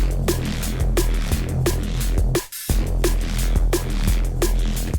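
A heavy, throbbing neuro bass patch made in the Vital synth plays with punchy drum hits in a steady rhythm, pausing briefly midway before the beat resumes.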